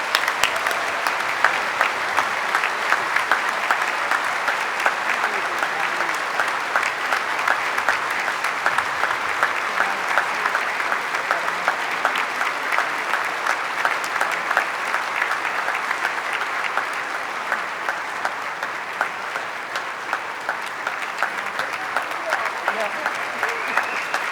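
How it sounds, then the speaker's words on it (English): An audience at the 2022 AFN convention gives a family sustained, loud applause during a keynote speech, dense steady clapping filling the whole stretch with slight fading toward the end. "give this family the applause they really deserve for their lifetime sacrifice"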